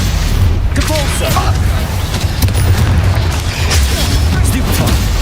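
Spell-blast explosions go off during combat in the video game Hogwarts Legacy, with booming bursts over a dense, noisy battle mix while a voice shouts.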